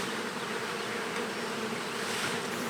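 Honey bees buzz steadily in a nucleus colony box during hive installation, a dense, continuous close-up drone with no voices.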